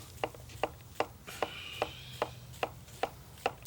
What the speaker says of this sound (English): I've got a red onion, which I won't need all of. I'm just gonna take the core off there. Again, nice thin slices.